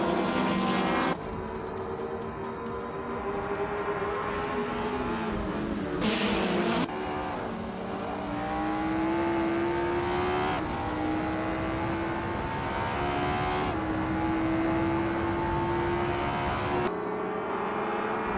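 Race cars fight nose to nose through a long stretch of continuous engine roar, with pitch climbing and dropping through gear changes and abrupt cuts between camera views, before ending more quietly.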